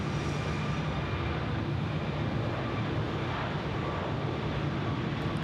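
A Virgin Australia Boeing 737 MAX 8 airliner takes off from runway 16 right at Sydney Airport, a loud, steady jet roar heard from nearby with wind rumble on the microphone.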